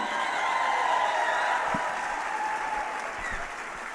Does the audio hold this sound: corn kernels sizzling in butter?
no